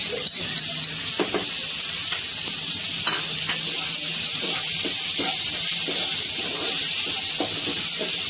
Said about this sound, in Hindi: अब मैं इसमें टमाटर, हल्दी, नमक सब एक साथ डाल दूंगी।